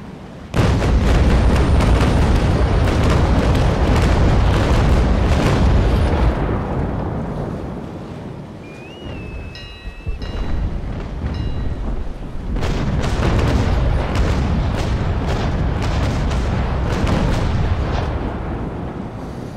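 Rolling cannon broadsides from a ship in the naval battle game Naval Action, loud continuous booming volleys that dip briefly mid-way before another sustained barrage resumes.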